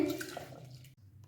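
Water splashes and swishes briefly as lentils are rinsed in a pressure cooker, close by, then quickly fades to quiet.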